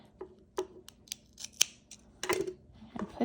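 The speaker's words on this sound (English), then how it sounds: "cut my yarn" Scissors snipping through yarn up close, a quick series of soft crisp cuts and blade clicks with no talking.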